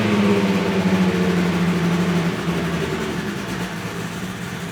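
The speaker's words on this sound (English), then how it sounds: "And now we're back to a very low idle, so we'll kick it up just slightly to finish it out." A Honda-powered Ferrari engine runs close and loud with a steady low throb, holding a slightly raised idle before gradually settling lower and quieter.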